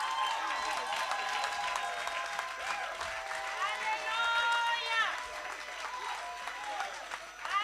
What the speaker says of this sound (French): acclame plus fort que ça.